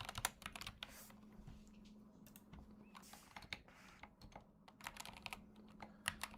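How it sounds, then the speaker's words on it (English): Close keyboard typing in quick irregular bursts of clicks and taps, with brief pauses between runs of keystrokes over a faint steady hum. "what I'm doing right now is I'm just typing in the poll."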